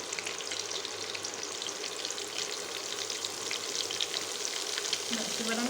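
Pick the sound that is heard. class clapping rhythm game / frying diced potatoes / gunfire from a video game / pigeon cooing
frying diced potatoes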